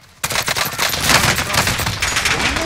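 Gunfire in the video game Call of Duty Modern Warfare: a dense, loud burst of rapid shots starting abruptly and continuing without pause, with overlapping crackling reports and game ambience.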